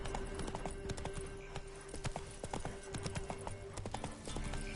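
A horse gallops in The Witcher 3 video game, hooves pounding in a fast, continuous clip-clop rhythm that stays close and fairly loud throughout.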